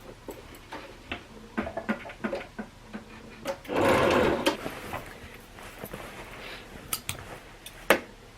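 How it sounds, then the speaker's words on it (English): A sewing machine top stitches around both sides of a denim skirt made from old jeans, running in short bursts of rapid mechanical ticking with a longer steady run in the middle, interspersed with small clicks and pauses, fairly close and moderately quiet. "We're going to go around both sides and top stitch all the way around."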